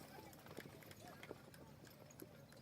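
Hooves of a Percheron draft horse team clip-clop steadily at a large horse driving show, a rhythmic, fairly distant patter beneath talk and crowd noise.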